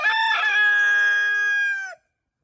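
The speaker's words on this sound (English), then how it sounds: "When Scheherazade heard the rooster crow," A rooster crows once, a loud, close, drawn-out cock-a-doodle-doo lasting about two seconds, clear against silence before cutting off abruptly.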